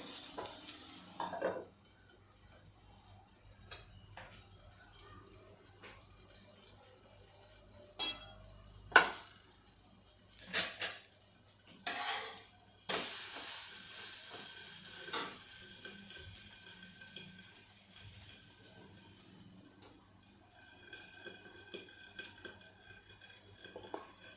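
Onion frying in a pan for green pea dosa, a close steady sizzle broken by stirring scrapes and several sharp spatula clanks against the pan, with no talk.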